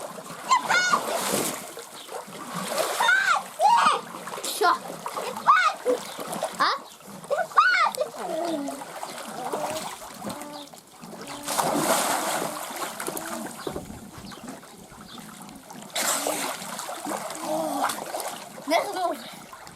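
Children splash and slap water in a swimming pool in repeated bursts, with laughter and excited kids' voices talking and calling over the splashing throughout.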